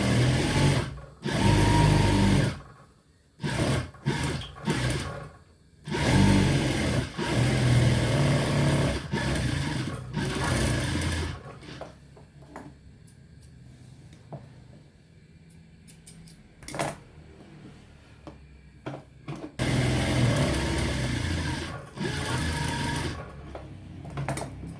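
Sewing machine double-stitching a seam on a kameez, running in several loud bursts of varying length with quieter gaps of fabric handling between them.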